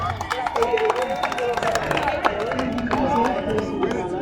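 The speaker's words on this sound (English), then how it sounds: "Ladies and gentlemen, a big round of applause to Margaret Jepchumba." Scattered clapping and crowd noise rise at the finish of the City2City Ultra Marathon for winner Margaret Jepchumba. The applause stays beneath a loud amplified voice that talks throughout.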